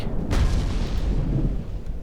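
A torpedo detonating aboard an enemy ship in the naval game Ultimate Admiral Dreadnoughts: one heavy boom near the start, followed by a rolling low rumble that fades over about two seconds.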